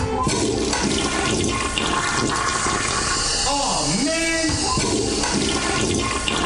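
A toilet flushes loudly in a men's room radio show bumper, the rushing water filling the whole stretch with a swirling gurgle near the end while a voice speaks briefly over it.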